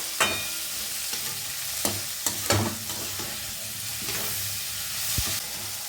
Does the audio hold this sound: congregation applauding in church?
no